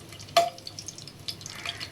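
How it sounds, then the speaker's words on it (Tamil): Whole spices, cinnamon, cloves and bay leaf, frying in hot oil with a soft crackle, a sharp pop near the start and a few lighter spits after. "நம்ம போட்ட பட்டை லவங்கம்லாம் நல்லா பொரிஞ்சிருச்சு."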